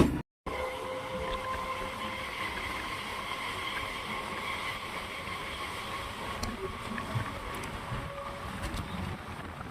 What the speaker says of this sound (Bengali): রানাঘাট স্টেশন শান্তিপুর লোকাল ঢুকছে শিয়ালদা শান্তিপুর লোকাল